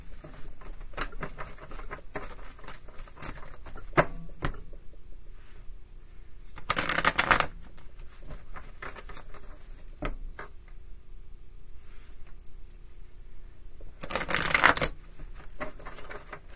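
Tarot cards are shuffled in repeated soft pattering riffles, with two louder bursts of rapid card flicking standing out close to the microphone, and no talking.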